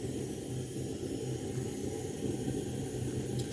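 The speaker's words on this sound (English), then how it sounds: "So I have my water boiling already" A steady, low rumbling bubble of water boiling in a pot for vegetable soup, continuous and fairly close, with no talking.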